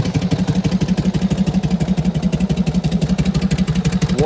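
An original 1948 Harley-Davidson Panhead motorcycle engine idles steadily, its low, even pulsing throb continuing without a break and no voices over it.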